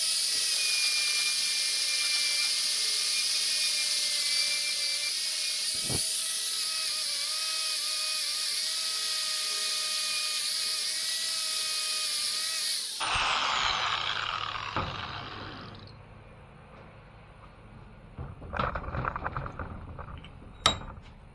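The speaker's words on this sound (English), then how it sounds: "I'm gonna see if I can clean it with this brush" A brush works rust out of pitted metal on a homemade squirrel skinning tool, a steady whining, buzzing drone for about thirteen seconds that cuts off, leaving scattered scrapes and clunks.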